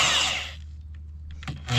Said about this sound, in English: Now the plan here today is I'm only going to drill halfway through.